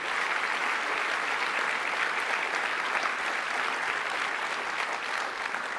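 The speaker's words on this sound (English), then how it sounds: "would you please join me in giving them one more round of applause" A conference audience gives a sustained round of applause, an even wash of many hands clapping steadily throughout at moderate volume.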